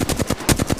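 Rapid automatic gunfire in the video game Apex Legends, with about seven quick evenly spaced shots in under a second, loud and close.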